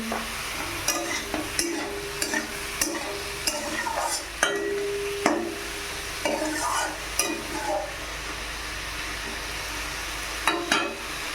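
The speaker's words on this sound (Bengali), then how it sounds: "এই যে লাউয়ের চোখলাটা হালকা লাল লাল ভাজা হয়েছে" Bottle gourd peel and chopped onion stir-fry in a pan. A soft sizzle runs underneath while repeated scraping stirs and utensil knocks come at an uneven rhythm, close and fairly quiet.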